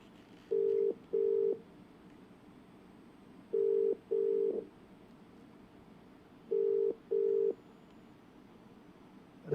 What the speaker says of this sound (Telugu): ఆ ఫోన్ రింగ్ అవుతూ ఉంది.